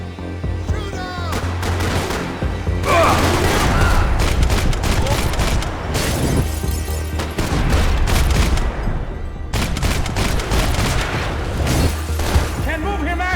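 Dense gunfire in the Max Payne 3 video game, a hardcore run of the New York Minute mode on PC, with loud overlapping bursts and booms filling the whole stretch, broken by brief lulls, while shouting voices cut in beneath the shooting.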